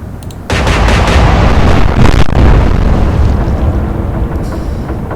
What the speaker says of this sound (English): Stood no real chance against Warspite's 15-inch guns.